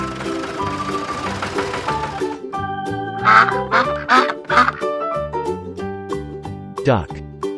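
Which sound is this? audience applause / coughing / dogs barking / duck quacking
duck quacking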